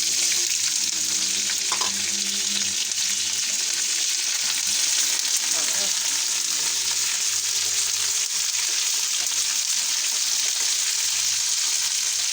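Chopped chilies fry in hot oil with five-spice seasoning for a chili pickle, giving a loud, continuous close sizzle with faint stirring clatter and no talk.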